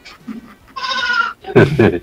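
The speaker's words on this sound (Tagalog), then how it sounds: "Narinig akong kambing." A goat bleats once in a long, wavering cry close by, bracketed by people speaking before and after it.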